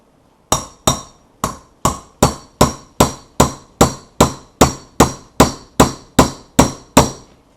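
A hammer drives a shaft into a Yamaha TTR90 cylinder head with about fifteen sharp metallic strikes at a steady rhythm, loud and close with no talking.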